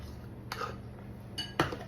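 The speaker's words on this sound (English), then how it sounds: "we'll use my mustard spoon because we're going to put mustard in this" A metal spoon clinks lightly against a dish while mustard is mixed into a meatloaf glaze, with three soft, separate taps in a quiet kitchen.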